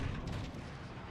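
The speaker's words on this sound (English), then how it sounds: "there are 3 warp cannons shelling the Ark" Warp cannons shell the Ark in the game Fall of Cybertron: a dense, rumbling barrage of heavy booming blasts that fills the whole short moment, loud and continuous.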